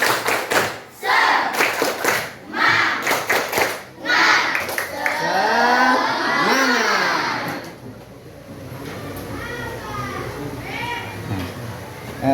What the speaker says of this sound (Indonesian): Oke, kalau semangat kita tepuk semangat lagi.